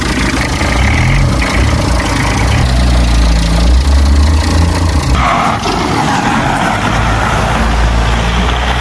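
An Audi A3 Sportback with an electrical fault idles up close in a steady, loud, low engine rumble with an even, unbroken drone throughout.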